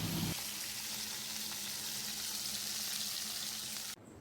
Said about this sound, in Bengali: আর গ্যাসে হচ্ছে কুদ্রুকি ভাজা